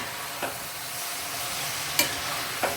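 Brinjal pieces stir-fried in a pan for kathirikai gothsu, a steady soft sizzle with a few sharp scraping clinks of the stirring spoon, close and moderately quiet.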